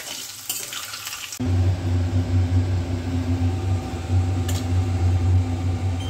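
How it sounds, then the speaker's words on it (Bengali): Potatoes fry in oil in a pan, giving a steady close sizzling hiss with a low hum underneath that runs unbroken after a brief quieter start. "তো আমার আলুগুলো দেখুন অলমোস্ট হয়ে গেছে ভাজা।"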